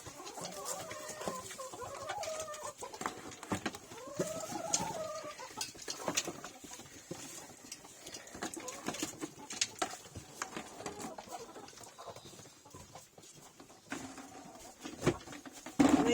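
Hens cluck and murmur inside a hen house, their soft calls rising and falling at moderate distance amid rustling, with occasional thumps and movement nearby.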